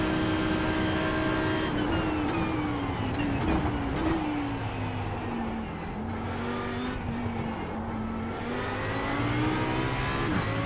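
An Audi R8 LMS EVO II GT3 in iRacing accelerates hard around Spa-Francorchamps, its engine note climbing steadily through the gears with brief shifts, loud and continuous with no voice over it.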